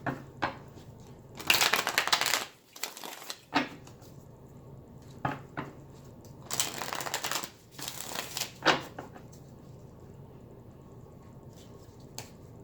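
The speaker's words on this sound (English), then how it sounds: "Let's shuffle real quick here." A tarot deck is shuffled by hand in several separate rustling, riffling bursts with quiet pauses between them, close and fairly soft, with no voices.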